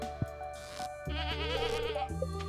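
A goat in the farming video game Stardew Valley bleats twice, loud and close, a wavering nasal cry over a layered game-music background with no talk.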